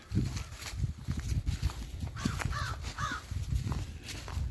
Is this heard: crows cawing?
yes